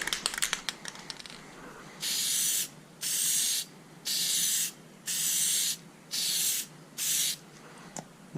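Plasti Dip aerosol sprayed onto Hyundai badges, heard as six even hissing bursts of about half a second each with short pauses between them, following some faint handling clicks.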